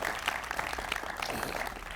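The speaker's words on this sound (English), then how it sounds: "Let's give her a round of applause." Audience applause for Michelle Mosby at a ribbon cutting for Studios South Richmond, a steady wash of clapping from a gathered crowd, moderately loud and continuous, with no voices heard over it.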